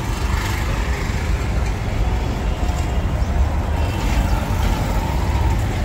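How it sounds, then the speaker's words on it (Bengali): Busy street traffic runs beneath an elevated metro line in Garia, with buses and auto-rickshaws producing a dense, continuous rumble of engines and road noise and faint horns. "মেট্রো চলছে একদিক দিয়ে, উপরে মেট্রো, নিচে বাস,"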